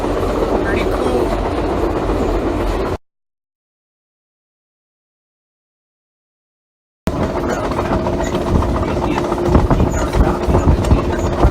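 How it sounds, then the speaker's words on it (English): Steady rumbling clatter of a train rolling along rails between Anchorage and Denali Park, Alaska, continuous and close, broken by a stretch of silence midway before the rolling resumes. "8 hours on the train"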